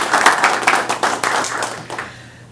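Brief burst of hand clapping at a town council meeting, a small group applauding at close range, strongest at the start and thinning out and fading within a couple of seconds.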